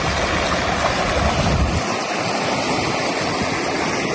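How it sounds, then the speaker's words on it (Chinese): A clear mountain stream rushes along the valley floor in the hills of western Hunan, giving a loud, continuous watery roar with no one speaking. "这边有一条小溪，小溪里面的水很清澈"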